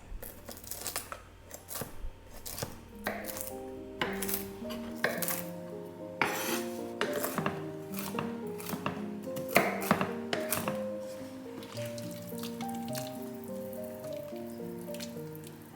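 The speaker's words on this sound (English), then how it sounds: "I'm then roughly chopping some walnuts." Repeated sharp knife taps and crunches as walnuts are roughly chopped on a cutting board at an uneven pace, close up and fairly quiet, with no talking.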